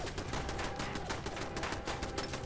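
Rapid automatic turret gunfire in the Fallout 4 video game, a dense continuous burst of shots filling the whole moment, loud and steady with no talking.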